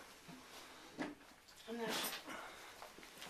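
A young female shelter puppy, about seven to eight months old, in Lublin gives soft whimpers and brief yips, faint and close, under people talking nearby.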